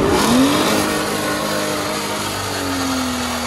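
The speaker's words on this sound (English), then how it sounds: "Do you have to throw it neutral and rev it up high?" A diesel car engine revs high in neutral, loud and close, with a rising whine that settles into a sustained roar, running on washer fluid; no one speaks.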